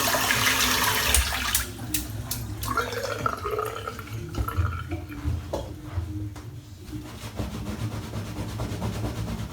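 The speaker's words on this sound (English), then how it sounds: "Rinse the soap out" Tap water runs steadily while soap is rinsed from a shaving brush, a continuous close splashing wash with brief irregular spatters and drips over about nine seconds, no voices.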